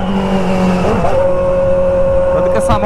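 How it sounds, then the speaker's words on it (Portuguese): A pink Hornet motorcycle roars loudly up close at a street gathering, its engine pitch climbing as it revs, with no speech over it. "Quanto que essa moto tá berrando aqui"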